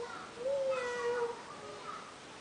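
A pressed toy cat lets out a single electronic meow, a thin, steady tone at moderate volume over quiet room noise, with faint background sound around it.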